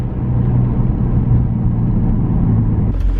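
BMW E46 M3 driving on the road, a steady low engine drone and road rumble held close throughout, with a brief shift in tone near the end.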